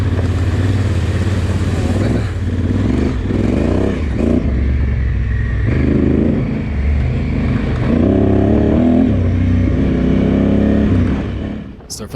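Motorcycles, a Honda Africa Twin and a BMW, ride twisty single-lane paved roads with loud, continuous engine drone and wind rush that rises and falls as the riders accelerate, while a voice talks over it.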